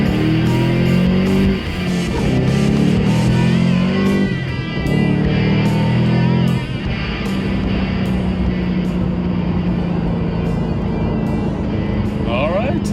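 A 2011 Shelby GT500 with a 750 hp Whipple supercharger launches hard on an old country asphalt road, its loud engine roaring and climbing through rising revs over a sustained, close drone.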